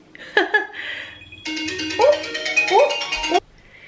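A phone ringtone for an incoming call plays in a melodic, repeating pattern of bright tones, loud and close, broken by short pauses and a brief overlapping sound.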